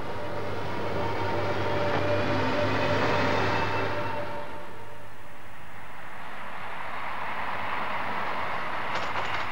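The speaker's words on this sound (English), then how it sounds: "produces electricity, which drives a motor connected to the wheels. But where's the fuel for this locomotive?" Electric locomotive train passing, a loud rolling rumble with a tonal whine that swells and then fades into broadband rail noise.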